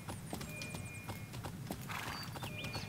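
A horse in a video game, heard as rapid clip-clop hoofbeats over a busy, noisy background, with a brief whinny-like sound near the end.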